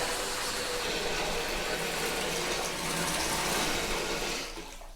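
Water pours steadily into a jetted tub in a timeshare villa bathroom, a loud, even rushing hiss that holds for several seconds and fades at the very end, with no voices.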